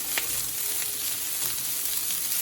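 Masala frying in oil in a pan, a soft steady sizzle with faint crackles, continuous and fairly quiet.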